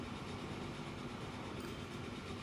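A train rolls along in the Transport Fever 2 game, a steady, dense rumble with faint rail clatter, continuous and even throughout with no talk.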